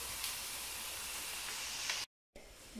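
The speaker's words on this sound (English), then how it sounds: "Water is boiling." Steady, loud hiss of water at a rolling boil in a pot, continuous and close, with the sound cutting out briefly before resuming.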